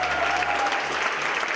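Applause from a concert hall audience after a Ukrainian folk performance, a dense, steady wash of many hands clapping that stays loud and even throughout, with a faint sustained tone running beneath it.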